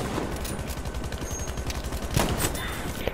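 Ross Rifle MK3 gunfire in Battlefield V among dense battlefield noise, with a couple of sharp rifle reports standing out against constant rumbling and distant shots, mixed with game clatter and no clear talk.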